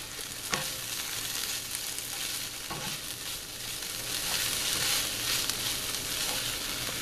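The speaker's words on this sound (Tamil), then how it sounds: "இப்போ இதை நம்ம நல்லா கிண்டி விடலாம் ஒரு தடவை." Crumbled shark puttu fries in a pan over medium flame, a steady close sizzle broken by a few sharp spatula scrapes as it is stirred, with no voices.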